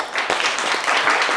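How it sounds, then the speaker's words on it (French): Audience applause for a young woman at a live French show, a dense wash of clapping held steady for the whole short stretch with no voices over it. "Allez, applaudissez-la bien fort."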